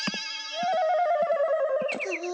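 An old-style landline telephone bell rings insistently, a bright sustained metallic trill, close by and alone indoors.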